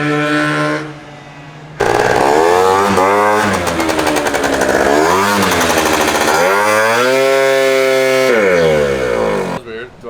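Rare Derbi GP1 scooter with untuned jetting and carburetor setup, its two-stroke engine revving loudly in rising and falling sweeps on a first ride, with a brief lower idle before the throttle flares and holds high.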